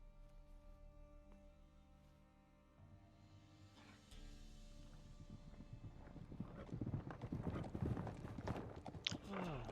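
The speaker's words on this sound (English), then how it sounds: "Horses riding." Hooves clip-clop in a video game, starting faint and growing louder and denser as several horses approach at a gallop, with no talk over them.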